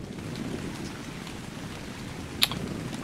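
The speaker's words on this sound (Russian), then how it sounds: "вот под этим именно дождем, кстати, я и смог пробраться на этот остров" Steady rain in the survival game ARK: Survival Evolved, a soft continuous hiss with a low rumble underneath and one sharp click near the end.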